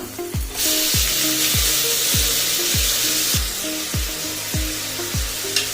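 Chopped tomatoes hit hot oil in a frying pan for a tomato and field-bean rice dish, setting off a loud, steady sizzle that flares up and then settles under repeated stirring clinks.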